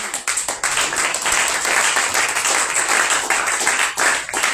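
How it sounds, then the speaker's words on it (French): Church conference audience clapping and cheering in acclaim of Jesus, a dense, steady wash of many hands that fills the room and stays loud throughout. "Acclame un peu Jésus."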